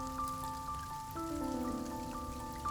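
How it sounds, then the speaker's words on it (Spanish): Raindrops patter steadily on a surface beside a roadway, a soft continuous rain beneath sustained tonal background music, with no voices. "Las gotas de lluvia vuelan por los aires."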